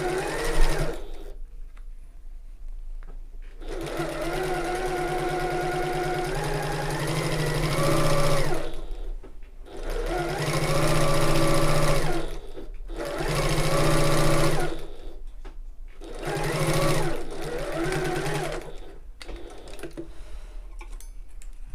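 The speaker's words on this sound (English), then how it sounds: "I do forget until I'm sewing around the perimeter" A sewing machine stitches around the perimeter of a tote bag in repeated bursts of several seconds each, separated by short pauses, loud and close with no talk.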